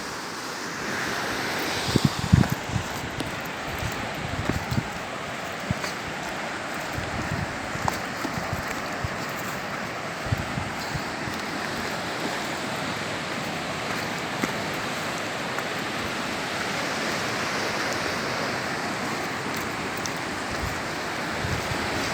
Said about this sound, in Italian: Oggi c'è un poco di mare mosso